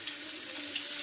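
Chopped ginger sizzles in hot refined oil in a pan, a steady, close, bright frying hiss with no talking.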